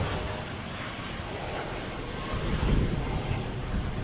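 A United Airlines jet takes off at Boston Logan bound for San Francisco, a broad steady engine roar close by that swells slightly toward the end, with no voices.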